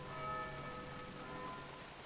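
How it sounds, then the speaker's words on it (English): Bells ring softly in the video game Vagrant Story, a faint sustained metallic tone lingering over quiet background ambience. "What do the bells mean?"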